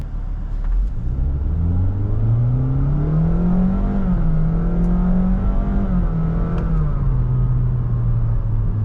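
Honda City RS hybrid with an eCVT accelerating, its engine droning in one long sustained tone that climbs, levels off and eases slightly while the car moves, heard from inside the cabin with no talking.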